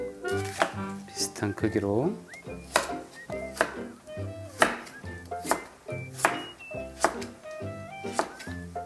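A knife chops carrots, onions and green onions on a cutting board into pieces about 2 cm thick for dakgalbi, striking in a quick, regular series of sharp knocks while someone talks over them.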